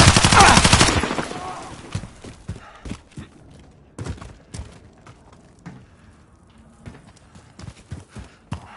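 Bursts of gunfire in a tactical shooter on PS4 crack out in scattered sharp shots after a loud opening burst, with the first second dense and heavy before quieter intermittent pops and clatter.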